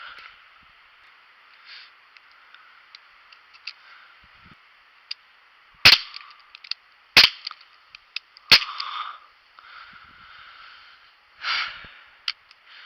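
Three sharp, separate shots from a Daisy Powerline 5501 air rifle fired at a target, spaced a second or so apart in a quiet setting, with soft clicks and breathing between them.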